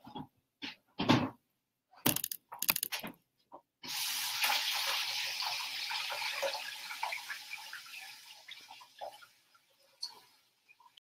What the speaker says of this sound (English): Let me throw this away and then I need to wash my hands.